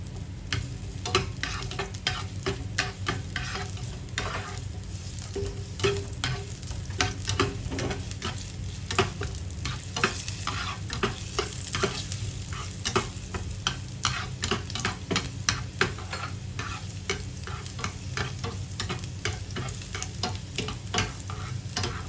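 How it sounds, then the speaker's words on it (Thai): Chopped garlic stir-fries in hot oil in a pan for a shrimp and broccoli dish, a continuous close sizzle broken by steady, rhythmic scraping strokes of a spatula, with no voices. "แล้วจะผัดให้กระเทียมเหลืองหอมนะคะ"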